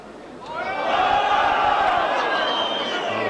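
Rugby league crowd at a 1989 Great Britain versus France match roars and whistles in reaction to a scrum feed, a loud sustained swell of many voices that rises after a second and holds.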